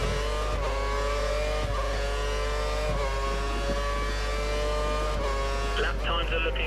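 A Lotus Formula 1 car in the F1 2013 racing game, driven at the Indian round, screams at high revs and bounces repeatedly off the rev limiter, a steady loud engine whine with periodic stutters and shifts.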